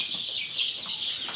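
Native desi chickens on a farm give soft clucks and short calls in a quick, irregular series, fairly close but not loud, with no talk over them.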